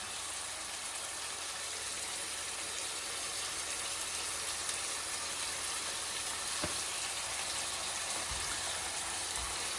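Beef steaks browning in a hot frying pan give off a steady, even hiss of sizzling fat that holds unchanged throughout, with no voices over it.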